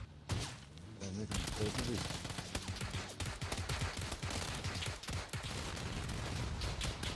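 Rapid bursts of video game gunfire, an automatic-weapon firefight, rattle steadily throughout while someone talks excitedly over the shooting.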